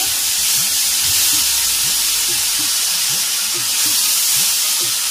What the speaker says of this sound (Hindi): बादाम, पिस्ता, खोपरा और पाउडर खोपरा, ये मैंने लिया है क्रश। अब इसको अच्छी तरह भूनेंगे हम थोड़ा सा।